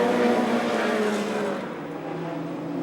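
Stock cars, among them old Mark I Fiestas, Toyota Starlets and Novas, roar around a racing track, with engines droning loudly at first, then easing as the pack moves off into the distance.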